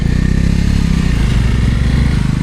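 A Hero XPulse 200 motorcycle engine runs loud and close on a ride toward Khardung La pass in Ladakh, a steady pulsing drone with no break.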